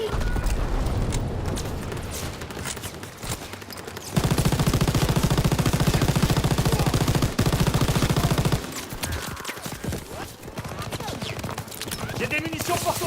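Dense machine-gun and rifle fire from Call of Duty WWII battle action, loud and continuous bursts with booming impacts, under shouted voices.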